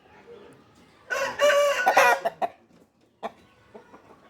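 An Indian rooster crows once, loud and close, followed by a short trailing call.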